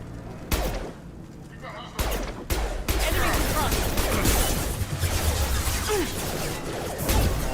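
Rapid gunfire rattles through a Mass Effect 2 firefight, with sharp bursts and crashing impacts in dense, continuous volleys up close. A voice speaks over the shooting.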